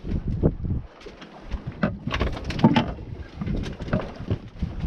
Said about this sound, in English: Now, I'm going to drop the mainsail down so that we can work on the boom.